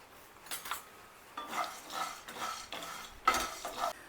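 Pumpkin seeds go into a bowl in a few short bursts of light rattling and clinking, quiet and close, with pauses between the pours.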